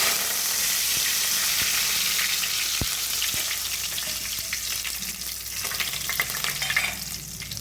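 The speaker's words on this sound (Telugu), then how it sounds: "కొత్తిమీర కూడా అంతా ఫ్రై అయిపోయింది. ఇప్పుడు అంతా కరివేపాకు వేయాలి." Loud, steady sizzling of coriander and curry leaves frying in hot oil, with a few stirring taps against the pan, close and continuous with no voices.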